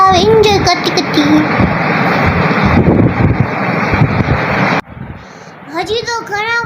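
Heavy rain and gusting wind roar across outdoor temple steps as a dense, loud wash of noise, dropping off suddenly near the end while someone talks over it.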